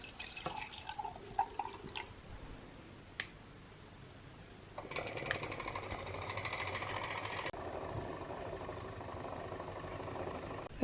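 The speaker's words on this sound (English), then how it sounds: "I'll put it into the milk frother now." An electric milk frother whirs as it froths milk for an iced matcha latte, a steady mechanical hum that starts after a few light clicks and drips and runs evenly for several seconds at moderate volume.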